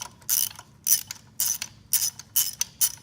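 A hand ratchet on a swivel backs out a spark plug on a 2017–2018 Ford F150 Raptor, clicking in six quick, crisp bursts at a steady rhythm, close and fairly quiet, with no talk.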